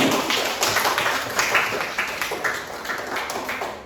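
Students in a classroom clapping their hands in applause for a classmate, brisk uneven claps close by forming a lively patter that gradually tapers off.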